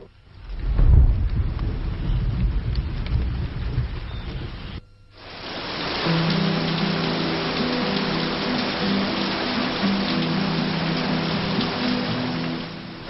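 Steady rain falls and patters loudly on a surface, a dense even hiss running unbroken after a brief lower, rumbling stretch at the start.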